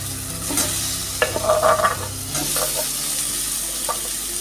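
Boiled potato pieces are stir-fried with spice paste in a pan for a Mughlai paratha curry, producing steady sizzling and frying hiss under repeated scraping strokes of a spatula, close and fairly loud, with no talking.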